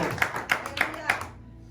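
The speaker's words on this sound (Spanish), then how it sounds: "Démosle un aplauso al Señor para empezar." A church congregation clapping in unison, about five strong rhythmic claps at a steady beat, each a sharp burst, before the sound cuts off abruptly.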